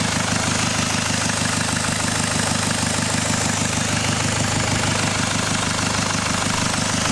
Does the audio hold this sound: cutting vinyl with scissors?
no